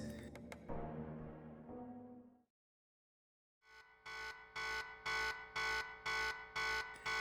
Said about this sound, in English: Suddenly, alarms start blaring